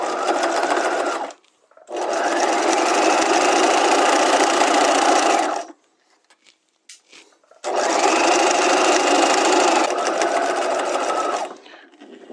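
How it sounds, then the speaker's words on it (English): A sewing machine stitches an in-seam pocket down to the side seam in two long, loud, steady runs, separated by a pause holding a few faint clicks and small handling sounds. "We're going to go ahead and sew right down from the top all the way to side seam."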